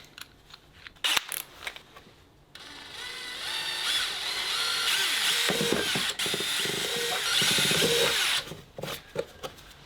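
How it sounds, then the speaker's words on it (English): A power drill whirs steadily for several seconds drilling holes during an electrical install in a van conversion, framed by brief clicks and handling noises before and after. "Drill these out."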